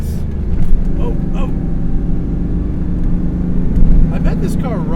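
A modified 1995 Pontiac Firebird Formula cruising on the road, a steady low engine and road rumble heard from inside the car while people talk over it.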